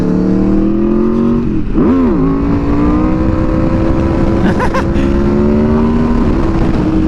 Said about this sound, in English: this bike feels weird to wheelie